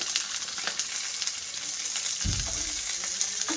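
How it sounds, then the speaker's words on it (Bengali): Potato chunks sizzle in hot oil for sabudana khichdi, a close, crackling fry with stirring clatter and a louder burst of sizzling partway through. "আলুটা দিয়ে বেশ ভালো করে কষিয়ে নেব"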